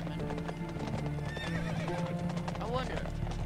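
In a castle-siege video game, a horse whinnies and its hooves clip-clop steadily under a player's talk.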